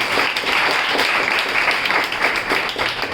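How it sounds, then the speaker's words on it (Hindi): Audience at a Zen Yoga course closing ceremony applauding: dense, steady clapping from a large crowd, loud and continuous throughout without letting up. "जोरदार तालियां बजाएं उनके लिए।"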